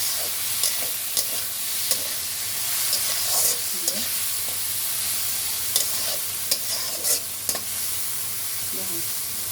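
Small mixed fish sizzle loudly in oil in a frying pan for a fish curry, with a steady hiss broken by scraping and tapping from a spatula stirring them.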